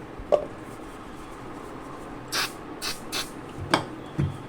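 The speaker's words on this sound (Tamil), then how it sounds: "அதே மாதிரி வந்து நம்ம ஃபால்கான் 530 ஸ்ப்ரே வச்சு நம்ம அடித்து செக் பண்ணிடலாம்." Falcon 530 spray being applied to a damaged phone display during glue removal, heard as several short, soft hissing spray bursts spaced apart in a quiet room, with a couple of faint clicks.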